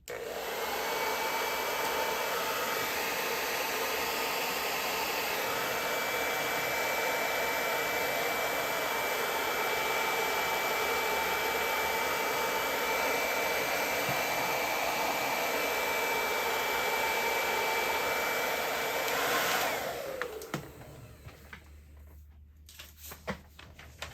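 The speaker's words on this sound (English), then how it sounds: "I'm going to use my hair dryer and just blow a little bit of heat on here to help the drying process speed up" A hair dryer blows heat onto freshly painted craft pieces, a loud, steady, close whine that runs unbroken for about twenty seconds before it switches off, leaving quiet handling noises.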